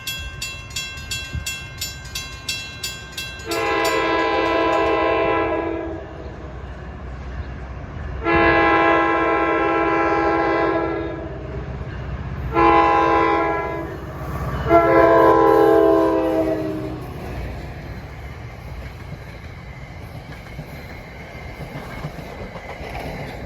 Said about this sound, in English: That's train 1117 departing Hohokus.